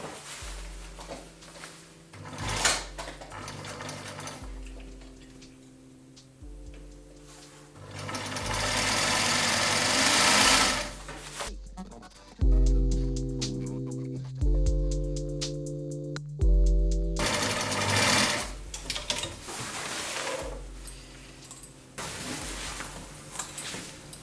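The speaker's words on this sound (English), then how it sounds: "I'm just starting at my hem, and I'm sewing at a 1 centimeter seam allowance." A sewing machine stitches a trouser hem at a 1 cm seam allowance, running in several loud, steady whirring bursts of varying speed separated by short pauses and handling clicks.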